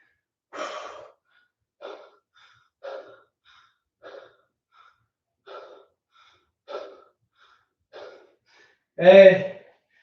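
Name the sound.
deep breathing after push-up workout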